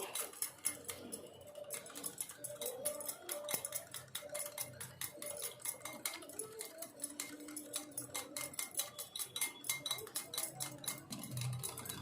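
Yogurt and oil beaten together in a bowl, a steady fast run of clicks and taps from the whisk or spoon against the bowl's sides, close and continuous with no talk.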